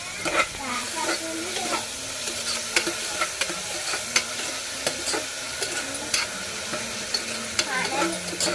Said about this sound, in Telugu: ఉల్లిపాయలు వేగాలండి.